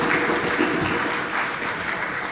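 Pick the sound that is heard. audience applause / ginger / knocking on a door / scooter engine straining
audience applause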